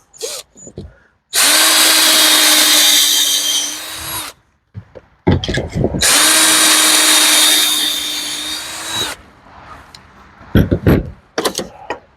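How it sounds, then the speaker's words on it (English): A power drill whines loudly in two sustained bursts of about three seconds each, boring into wood, with short clicks and handling noises between. "And we'll drill our holes."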